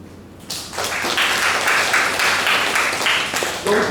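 A classroom of students bursts into applause after a moment of quiet, a loud close crowd of hands clapping evenly for several seconds before tapering off.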